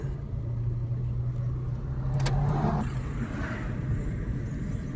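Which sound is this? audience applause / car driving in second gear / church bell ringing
car driving in second gear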